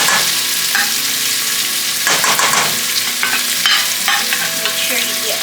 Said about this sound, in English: You want to keep stirring things while you're adding.